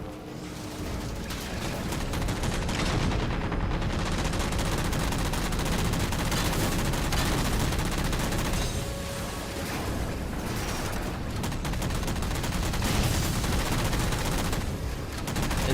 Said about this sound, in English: Why is that turret firing at me?